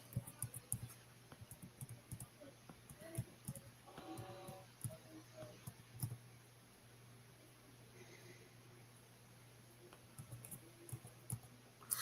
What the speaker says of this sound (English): Look at him typing all gingerly now.